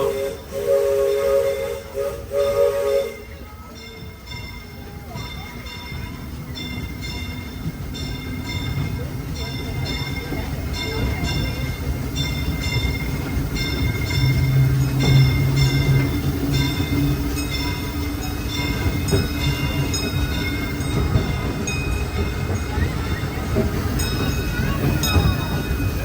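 The Disneyland Railroad train rumbles along steadily during the ride, with continuous rolling and wheel noise, a sustained tonal whine and hiss, heard from on board.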